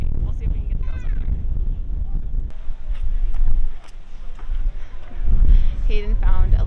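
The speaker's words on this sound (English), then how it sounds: "It is extremely windy" Strong wind roars and buffets the microphone in gusts at a high point in a park, a heavy low rumble throughout, with people talking underneath.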